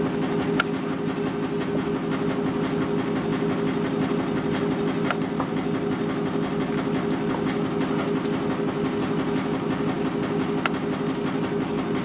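A Falex lubricant test machine runs with O'Reilly's 30 weight motor oil, giving a loud, steady mechanical drone and hum with faint occasional ticks, constant throughout.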